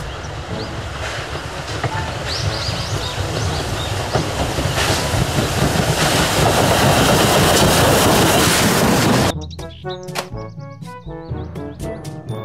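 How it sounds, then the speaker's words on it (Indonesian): A Thomas toy train runs loudly with a steady rattling clickety-clack for about nine seconds, then stops abruptly, leaving only scattered faint clicks and knocks. "Kereta, Thomas."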